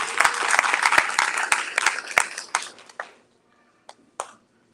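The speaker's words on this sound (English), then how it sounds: "Let's give him a big round of applause." A crowd claps in a dense burst of applause that thins out and fades after a few seconds, ending with a couple of scattered late claps.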